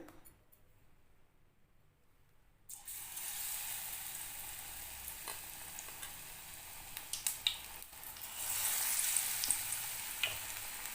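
Snake gourd bajji dipped in batter frying in hot oil, a bright steady sizzle that bursts in after a quiet start and swells louder near the end, with occasional small crackles.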